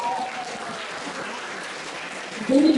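Students in a high school classroom clap after a presentation, a brief steady patter of applause with some voices mixed in and a louder burst at the end.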